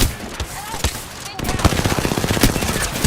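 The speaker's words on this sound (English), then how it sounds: "Being shot at." Video game gunfire, scattered shots first and then a fast continuous automatic burst of evenly spaced cracks, loud and near, with voices alongside.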